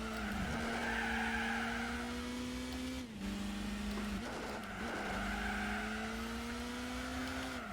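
A Mitsubishi Evo races in Gran Turismo 4, its engine a loud, steady drone that rises through the gears with quick shifts between, tires squealing faintly underneath.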